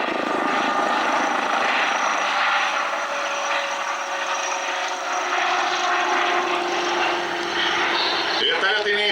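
A Ka-62 helicopter at the MAKS-2021 air show, a loud steady rotor and turbine drone filling the air continuously, with a sharper rise near the end.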